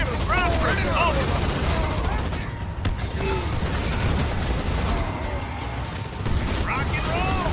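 Dense, continuous gunfire from ground troops in the video game Halo Wars 2, a steady rattling barrage with short voiced callouts over it at the start and end.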